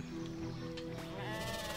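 Sheep bleating in the RuneScape 3 video game during the Sheep Herder quest, a moderately loud, wavering bleat over a busy background of game sounds, without a clear pause.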